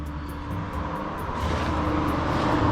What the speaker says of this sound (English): I know, a lot of you are cringing when I fire this grinder up.